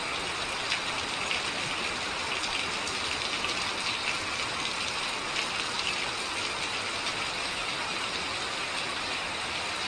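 Heavy, windless rain pours down in a straight, steady downpour, a dense continuous hiss of drops striking surfaces, constant in level with no voices.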